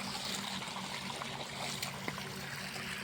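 Water gushes fast from an outlet on a farm as a continuous, steady rushing wash. It is fairly faint and heard alone, with no talk.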